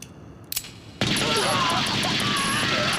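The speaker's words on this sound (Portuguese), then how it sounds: "Delta dispara rajadas de tiros do Delta Pony no slime" Sustained rapid-fire burst of sci-fi gunfire from a Delta Pony blaster in a Kamen Rider Delta fan episode, loud and continuous for about two seconds after a brief quieter lead-in.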